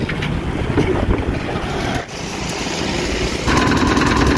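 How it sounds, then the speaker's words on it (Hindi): Strong, gusty wind roars across the microphone outdoors on a rural road among paddy fields, a constant heavy rumble with a brief dip before it surges louder again. "आज बहुत ज्यादा तेज हवा चल रही है"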